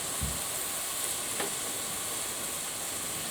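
Rice being stir-fried in a pan, with a soft continuous sizzle and gentle scraping as the grains are moved around lightly rather than mixed, fairly quiet and steady throughout.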